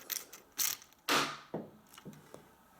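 A Vex Robotics switch grip mechanism clacks and ratchets as it launches bolts, giving several sharp mechanical snaps and a louder whooshing release near the middle, with brief rattling after.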